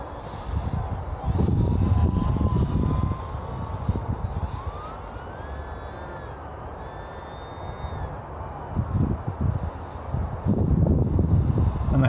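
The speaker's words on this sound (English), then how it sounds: "I do enjoy to fly these small UMX airplanes" A small Horizon Hobby UMX Cessna 182 radio-controlled model airplane's high-pitched motor whines overhead in windy weather, rising and falling as it passes, with gusty wind noise buffeting the microphone at times.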